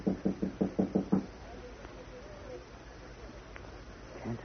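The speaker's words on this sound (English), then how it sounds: "try knocking, but softly." Six soft, evenly spaced knocks strike a bolted door, close and muffled, then give way to quiet room tone.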